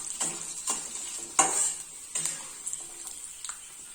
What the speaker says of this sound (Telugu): ఇప్పుడు ఇందులోనే కరివేపాకు, ఎండుమిర్చి ఇవన్నీ బాగా వేయించుకున్నాము.